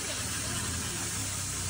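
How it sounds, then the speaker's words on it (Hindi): A coal-fired steam train engine hisses out steam in a loud, continuous, broadband rush that stays even and close from start to finish, with no speech over it. "कोयला से और पानी के उससे हम पहले स्टीम क्रिएट करते हैं, देन स्टीम के प्रेशर से वो ट्रेन चलती है।"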